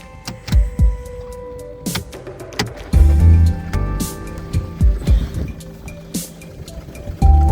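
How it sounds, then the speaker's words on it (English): Restarted car engine idling during a fuel injector check, a steady low throb that grows louder partway through, with clicks and clunks from work around the engine bay. "The engine died, so I'm gonna start the engine again."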